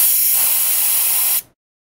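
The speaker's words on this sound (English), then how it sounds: "Check that the coil is leak-free by releasing the nitrogen as shown here." Nitrogen is released from the indoor coil of a ductless mini split ceiling cassette, a loud, close, steady hiss lasting about a second and a half before it cuts off abruptly into silence.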